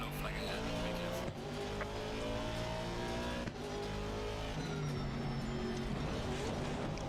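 A race car in an Assetto Corsa Competizione racing game at Monza runs at high revs with a steady engine drone, broken by two brief jolts as it strikes a curb, while a voice talks over the engine.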